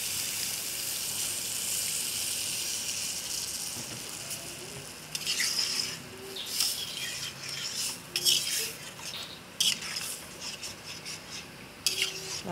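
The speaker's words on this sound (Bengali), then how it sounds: "ভালো করে জলটা দিয়ে মিশিয়ে নিতে হবে।" Fish roe curry with water being stirred in a pot, a soft wet sloshing that gives way to irregular spoon scrapes and clinks against the metal, moderately close with no talking.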